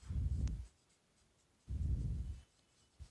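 A maths equation is written out in two distinct bursts of scratchy, close-up strokes separated by a short quiet pause, with no voices.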